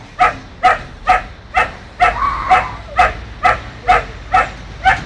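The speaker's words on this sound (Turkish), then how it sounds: "Benim köpeğim Süpermen oğlum." A dog barks about ten times in a steady, evenly spaced rhythm, loud and close, with no talking.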